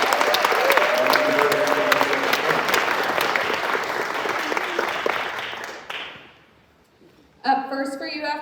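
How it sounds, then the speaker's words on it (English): A concert audience claps and cheers loudly for musicians at a Mother's Day musical matinee, dense applause that fades out, followed by a brief pause and then a voice speaking. "Would you give them one more round of applause"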